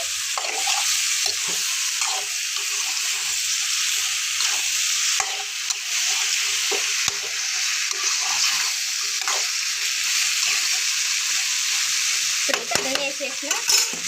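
Vegetables fry in oil with a steady, loud, close sizzle, dotted with occasional soft stirring clicks and scrapes.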